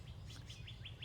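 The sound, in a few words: Hahn's macaw parrot calling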